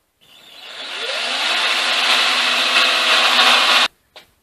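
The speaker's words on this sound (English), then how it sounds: "I'll just use a hand drill and just try to be gentle about it" A steady, whining hand drill bores 2.5 to 3 inches deep into wood continuously for several seconds, rough grinding texture throughout, then cuts off abruptly with a brief knock afterward.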